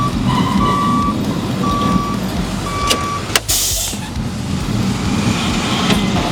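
A dumpster delivery truck backs up with its reversing alarm beeping steadily several times over a loud idling diesel engine, with a couple of sharp clunks partway through.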